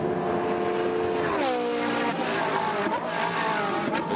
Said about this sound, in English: great noise that the Ferrari 488 makes comes then now up through the chicane Nord, back onto the power.